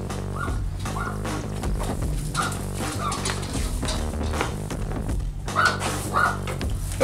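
Dogs bark in short repeated bursts indoors, mixed with whimpers and yips, fairly close and uneven in rhythm, over a low steady background with no clear talk.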